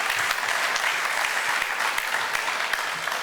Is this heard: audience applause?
yes